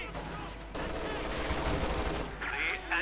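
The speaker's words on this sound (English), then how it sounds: "quickly upgrading with light machine guns" Light machine gun fire in a Company of Heroes 2 match, a dense crackle of rapid bursts under a broad, busy battlefield din, with faint voice-like sound mixed in.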